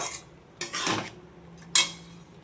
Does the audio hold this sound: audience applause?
no